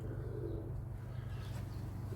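Low, soft cooing of pigeons, a steady murmuring drone close by, with faint outdoor background noise.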